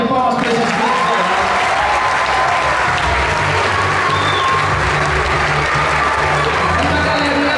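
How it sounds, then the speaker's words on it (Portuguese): Audience applause with some cheering from a crowd at a children's Christian performance event, loud and sustained for the whole stretch, with music tones underneath. "Uma salva de palmas para esses grandes heróis."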